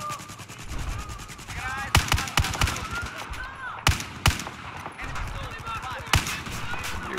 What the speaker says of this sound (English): You're using DMR.